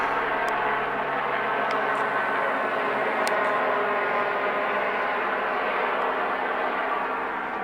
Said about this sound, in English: Phoenix police helicopter circling with spotlight on.